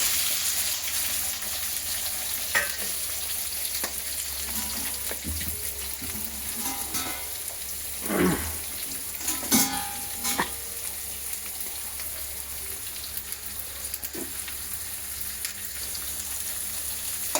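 Onions for chicken fry crackle and sizzle steadily in a hot pan, a close, continuous hiss broken by a few louder stirring scrapes and splutters around the middle.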